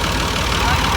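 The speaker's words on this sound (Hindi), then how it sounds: "दोनों ट्रैक्टर हो चुके हैं स्टार्ट" Two tractors, one a Massey Ferguson 240, run together with a steady, dense engine rumble close by, unbroken throughout.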